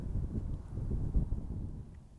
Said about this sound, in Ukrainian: Сьогодні, правда, сильний вітер.